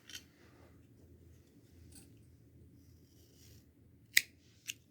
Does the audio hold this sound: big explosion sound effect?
no